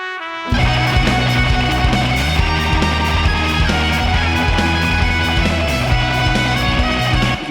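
A trumpet lead in a cover, bathed in reverb and set against a full band mix with drums, starting after a brief silence and staying loud and continuous.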